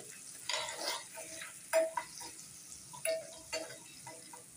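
Chili powder and ground turmeric sautéing in a pan with a few soft sizzles and scraping stirs in brief bursts, fairly quiet and close, with no talk.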